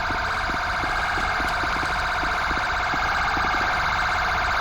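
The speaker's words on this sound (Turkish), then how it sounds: "Ambulans geliyor." Wailing emergency siren in GTA 5 at night, an ambulance on a city street, sounding steadily and loud throughout with a continuous rising-and-falling tone over low traffic rumble.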